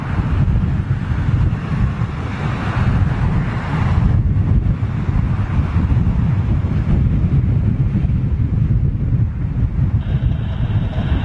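Strong gusting wind buffets a microphone at an airport while jets make crosswind landings, a loud continuous low roar surging and easing throughout with no talk.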